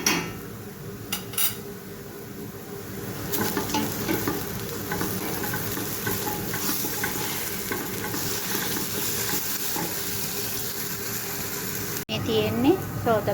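Ginger-garlic paste frying and being stirred in a pan while mutton biryani is cooked, a steady loud sizzle with the scrape of a utensil against the pan throughout, and occasional voices in the background.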